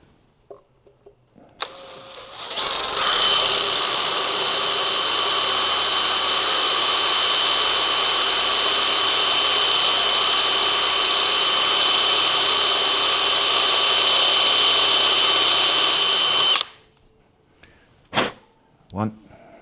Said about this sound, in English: Alright, so I've got my drill bit.